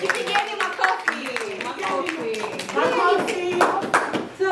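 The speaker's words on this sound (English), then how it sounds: "You guys can clap yourselves for that." Workshop participants at a Kiswahili language workshop clapping for themselves, a burst of applause from a small group mixed with an instructor talking over it.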